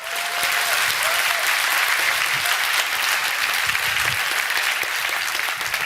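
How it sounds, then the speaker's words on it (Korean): A church congregation applauds during a Sunday worship service, a loud sustained roar of many hands clapping continuously, with a faint voice briefly underneath. "박수 치세요"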